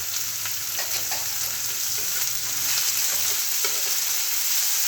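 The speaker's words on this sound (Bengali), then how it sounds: "এবার এটা আমি 1 থেকে 2 মিনিট একটু ভেজে নেব" Whole cumin and coriander seeds with green chillies frying in a pan, a steady close sizzle with small crackles and pops throughout, no voices.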